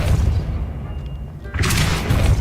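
A Depulso spell cast in Hogwarts Legacy lands as a heavy, booming burst with a bright whoosh, rumbling low under continuous game ambience.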